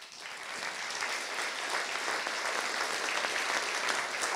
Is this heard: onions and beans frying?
no